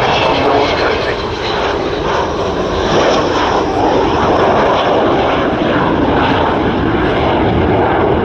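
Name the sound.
Avro Vulcan XH558 bomber aircraft engines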